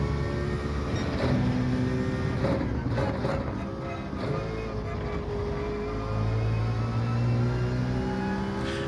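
A Citroen GT engine in Gran Turismo 7 at Interlagos, a continuous motor drone that rises and falls in pitch as the car accelerates and shifts, heard steadily at close range.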